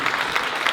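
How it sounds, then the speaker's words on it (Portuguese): Brief burst of audience applause at a Martin Scorsese film festival in a cinema, a dense steady patter of many hands clapping with no talk over it. "Quem tiver com a mão livre, por favor, mais uma salva de palmas."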